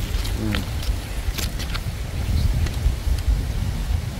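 Steady wind buffets the microphone in a low rumbling roar, with faint rustling and a few brief distant sounds.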